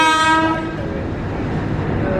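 A JR 205 electric commuter train rolls past close by at a station with a rising whine of motors that fades into a steady rumble of wheels on track.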